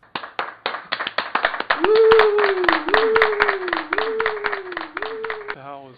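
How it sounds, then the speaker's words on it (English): Hand claps repeat in a quick, steady rhythm, close and sharp, while a voice talks over them with rising and falling tones. "Get grandma to clap."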